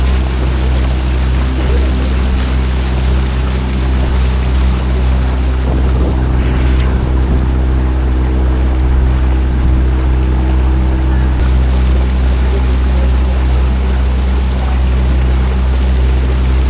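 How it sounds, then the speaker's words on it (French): A tour boat's motor drones loud and steady on the Matka canyon, a constant low rumble mixed with wind buffeting the microphone and water wash, with no talking. "on est parti pour une petite balade en bateau d'1 heure"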